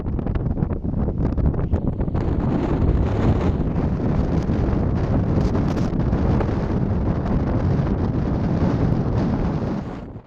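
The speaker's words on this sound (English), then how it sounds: "The real problem was the wind." Strong, cold winter wind roars across the open coast at Cape Soya in Wakkanai, Japan, buffeting the microphone in a loud, continuous rush with gusty surges and no speech.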